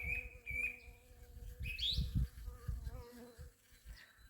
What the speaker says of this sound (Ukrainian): Бджілок море.